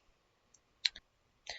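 Faint, sparse mouse clicks during an STL file export for 3D printing, a few light taps in a quiet room, including a sharper double click and a final soft click.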